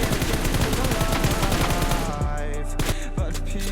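Rapid gunfire crackles in a video game aim training drill, a dense burst of fast automatic shots that gives way to a few separate, spaced reports with ringing tails.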